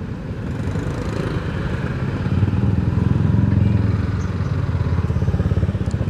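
A Yamaha NMAX scooter with an open pipe exhaust idles nearby, a continuous raspy, pulsing putter with a throaty low-end thrum that swells slightly midway, loud and alone.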